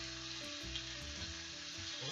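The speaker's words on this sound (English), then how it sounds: "And we are going to saute this all up." Onions and mixed green vegetables saute in a pan for a Philly cheesesteak, giving a steady close sizzle with soft stirring scrapes and no talking.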